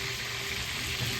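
Food deep-frying in hot oil until toasted and crunchy, a steady, dense sizzle and crackle close by with no talk.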